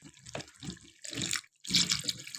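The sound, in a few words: pouring water into pot of potato curry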